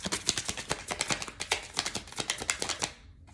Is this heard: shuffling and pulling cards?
yes